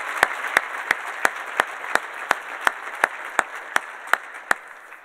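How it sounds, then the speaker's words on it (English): Audience applause at an award ceremony, a soft bed of crowd clapping overlaid by loud, evenly spaced single claps or thumps repeating about three times per second, close and prominent. "So let's give them a round of applause."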